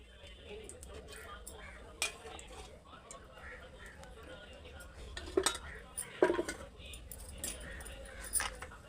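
A pan is set on a stove and oil is added, giving a few sharp metallic clanks and clinks of cookware against a quiet kitchen background, with a person talking throughout.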